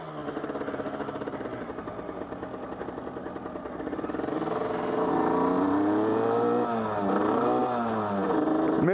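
Derbi GPR 50cc motorcycle engine revving hard and close, a raspy high-pitched two-stroke buzz that climbs and falls with throttle, growing louder midway with sweeping pitch rises.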